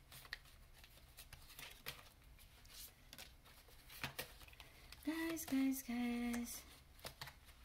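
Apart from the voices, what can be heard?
shuffling tarot cards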